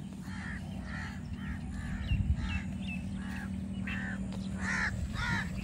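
Crows cawing from the trees beside a canal, a series of harsh calls repeating roughly every half second over a steady outdoor hum and rumble, moderately near.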